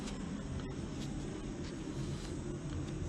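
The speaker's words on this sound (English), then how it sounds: "Small jet." A small jet passes low overhead on a cloudy day, a faint, steady, broad rumble and whoosh that holds evenly throughout.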